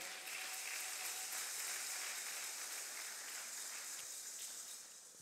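A church congregation applauding, dense sustained clapping from many hands filling the room at a moderate, even level, tapering slightly at the end.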